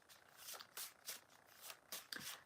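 Oracle cards are shuffled in quiet, soft riffling bursts repeating in a loose rhythm roughly every half second, close but faint, with no voices.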